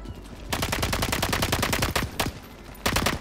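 Video game gunfire in bursts: two rapid automatic volleys, a brief pause, then another burst near the end, loud and close with no speech over it.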